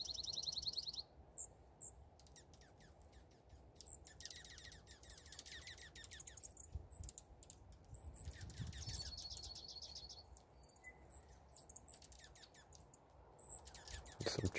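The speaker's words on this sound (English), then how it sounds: "These are all juncos." Juncos chirp and twitter at a backyard feeder, a steady stream of short, high tweets from several birds, fairly close, over a faint constant background hiss, with no voices.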